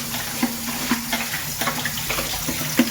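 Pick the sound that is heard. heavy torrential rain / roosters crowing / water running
water running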